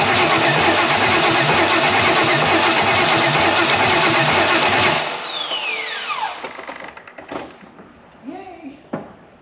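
A 5.3 LS V8 swapped into a Land Rover Discovery 2 cranks loudly for about five seconds with a steady rhythmic churn, without catching. The cranking stops, followed by scattered clunks and people's voices.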